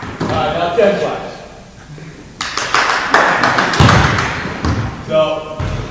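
A rapid string of about ten sharp hand claps during a basketball clinic ball-handling drill while a ball is tossed into the air, with thuds and a coaching voice in an echoing gym.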